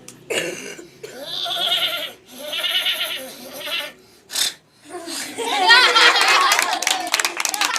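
A student imitates a horse's whinny with a series of shaky, bleating vocal bursts, followed by laughter and noisy crowd reaction.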